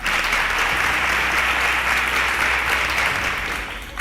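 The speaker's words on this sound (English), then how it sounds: "round of applause for her." Steady, dense audience applause for a contestant on a televised quiz show, loud and sustained for about four seconds before easing slightly at the end, with no voices over it.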